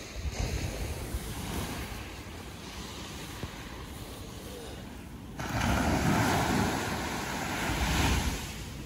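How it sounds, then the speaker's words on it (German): Flat waves wash ashore at Platja de Palma, Mallorca, with the wind blowing offshore, a steady near surf roar that swells louder midway, mixed with wind buffeting the microphone. "Wir haben heute ablandigen Wind, deswegen hier ein bisschen flachere Wellen."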